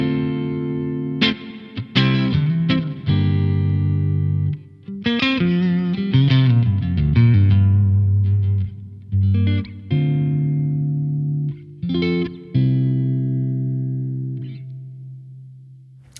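Electric guitar played through a Crazy Tube Circuits Crossfire overdrive pedal with reverb added in its effects loop, heard as clean-ish sustained chords and short melodic runs ringing out with a reverb tail, no talking.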